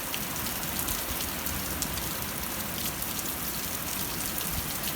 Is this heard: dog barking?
no